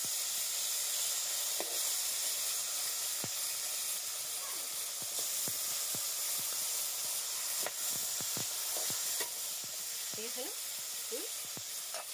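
Large sarpunti fish fry in hot oil in a wok, giving a steady broad sizzle and hiss with scattered pops and crackles, close and continuous, with brief faint voice sounds underneath.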